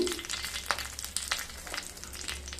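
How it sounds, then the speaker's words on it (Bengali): Black mustard seeds and curry leaves sizzle in hot oil, a continuous close crackle and spit with scattered pops, steady throughout and with no voices. "এবার ওই তেলের মধ্যে প্রায় এক চামচ সর্ষে দিয়ে দিলাম অবশ্যই কালো সর্ষে দিতে হবে"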